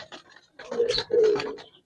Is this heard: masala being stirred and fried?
no